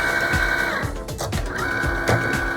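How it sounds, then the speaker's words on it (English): A vinyl cutting machine working with Siser Easy Color DTV iron-on material hums and whirs steadily as it scans for black registration marks, with a faint rhythmic mechanical ticking, close and continuous. "What the machine is doing now is looking for those black lines."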